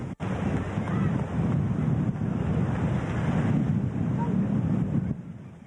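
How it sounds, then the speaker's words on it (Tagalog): Strong typhoon wind from Nesat batters a Camarines Sur shoreline, a dense roaring rush of gusts and surf buffeting the microphone, steady and loud before easing off abruptly at the end. "Malakas na hangin ang gumising sa mga taga Camarines Sur kanina."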